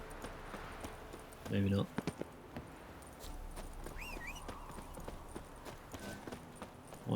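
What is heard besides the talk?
horse hooves walking in Witcher 3 video game, horse Roach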